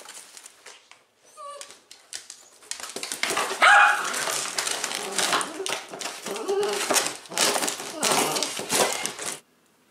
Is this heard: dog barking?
yes